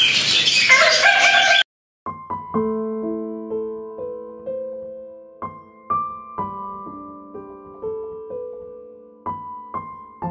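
A pet rooster gives a loud, close crow at the start, then clucks in short repeated bursts that go on steadily with no one speaking.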